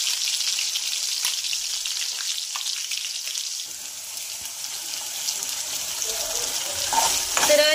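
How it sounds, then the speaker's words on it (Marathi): Masala spices sizzle and fry steadily in hot oil in a pan while a fish curry is cooked, with some stirring and clinking toward the end. "यामध्ये आपण मसाला घालूया आणि छान असा मसाला आपल्याला फ्राय करून घ्यायचा आहे"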